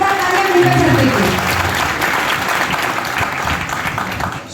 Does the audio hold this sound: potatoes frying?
no